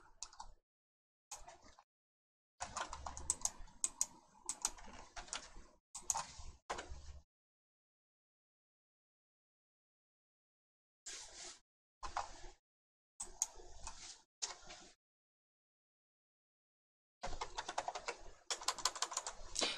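Fingers type on a computer keyboard into a browser search box, in several quick bursts of close, crisp key clicks separated by stretches of silence.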